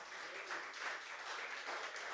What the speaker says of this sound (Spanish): Dale un fuerte aplauso a ese Rey de Reyes